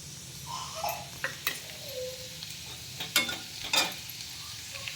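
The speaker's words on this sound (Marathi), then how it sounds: "आता जिरं टाकून घ्यायचं" Cumin seeds dropped into hot oil for a dill-leaf vegetable dish, a steady close sizzle with a few sharp crackles and stirring scrapes, no talk.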